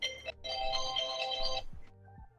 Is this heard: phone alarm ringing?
yes